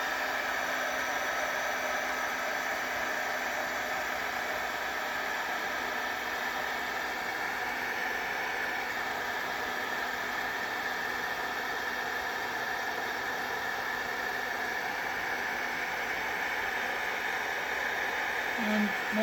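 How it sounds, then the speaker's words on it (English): A heat gun blows hot air onto a mermaid journaling craft card, giving a steady, loud, unbroken whooshing drone that holds at one level throughout, close up with no talking. "I'm going to get my heat gun"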